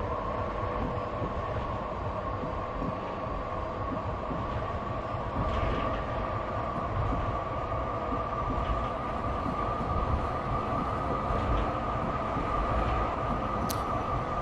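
A Frankfurt U-Bahn train running in Train Simulator Classic, a steady low rumble and hum of the moving metro car with a constant tonal whine, continuous and even throughout, no voices.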